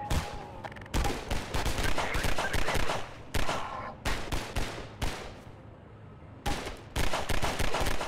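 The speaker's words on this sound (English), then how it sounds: "Where am I being shot at?" Gunfire aimed at the player in the video game Half-Life 2: rapid bursts of shots crackle in several loud volleys separated by brief pauses.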